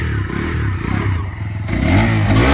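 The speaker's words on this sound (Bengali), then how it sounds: "চলেন এর সাইলেন্সারের আওয়াজটা আপনাদের শোনাই।" A new 2024 Bajaj Pulsar N125 motorcycle with an underbelly exhaust idles and revs close by, its steady low engine throb rising into a throatier rev near the end, with some faint clattering.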